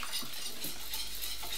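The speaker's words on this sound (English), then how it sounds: "So you're going to mix this in and keep whisking because you want it to be smooth and not lumpy" A whisk stirs lemon pie filling in a pot, a brisk continuous scraping swish with faint metallic clinks, close and unaccompanied by talk.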